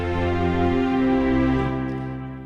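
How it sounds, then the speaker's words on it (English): Synthesized string pad from Omnisphere, a smooth sustained chord with lush layered harmonics swelling gently and fading toward the end, playing alone without any voices. "I'm just using a string pad sound like this."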